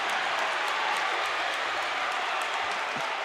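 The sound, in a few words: basketball crowd cheering after a great play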